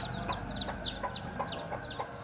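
Chicks cheep in a quick run of high, chirping peeps, about three per second, close by, over faint background noise.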